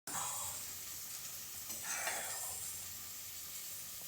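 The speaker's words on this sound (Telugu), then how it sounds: "ఇప్పుడు మూత తీసేసి మూత లేకుండానే ఫ్రై చేసేసుకోవాలి." Chicken frying uncovered in an open pan over a medium flame: a steady close sizzle and hiss running the whole time, with slight swells as the pieces are moved.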